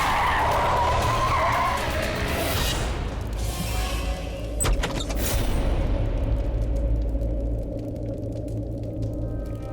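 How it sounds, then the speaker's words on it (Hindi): A car speeds out of control with a long tire skid and squeal, then a loud whoosh and thump as the engine roars on, a steady close rumble throughout with no voices. "अभी अचानक ये गाड़ी इतना तेज कैसे चलने लगी?"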